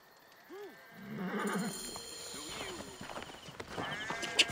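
A horse whinnies and snorts in the Assassin's Creed Origins video game, with hoof clops and shuffling amid game ambience and speech layered over it.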